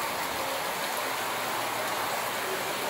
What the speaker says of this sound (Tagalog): Wow, lakas ng ulan. Grabe talaga.